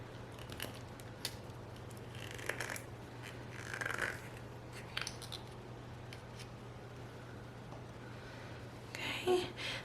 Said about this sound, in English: I'm going to cut my little makeup sponge